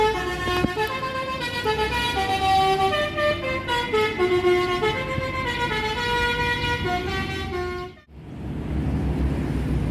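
Telolet musical horn on a Pertamina tanker truck plays a long, loud run of tuneful stepped notes for about eight seconds, stops abruptly, and gives way to road and engine noise.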